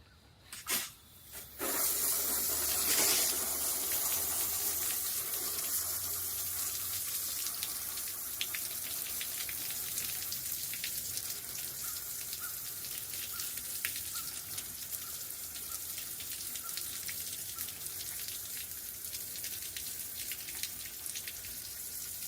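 A garden hose sprays water in a steady hiss while a Bull Frog X7 hot tub is cleaned, loud and continuous for about twenty seconds after a brief start.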